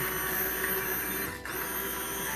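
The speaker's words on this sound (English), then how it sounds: "Time for the immersion blender. That is going to blend everything" An immersion blender whirs continuously through food headed for a creamy texture, a steady close motor whine with a momentary dip as it shifts, and no talking.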